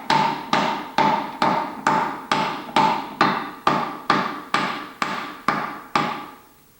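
A steel hammer taps a new wheel bearing into a motorcycle wheel with about a dozen sharp, evenly spaced metallic blows, each ringing briefly, loud and close.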